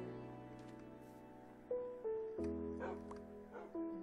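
A game-style dog gives a few short yips and whimpering barks over a steady synthetic background tone, with low talk underneath.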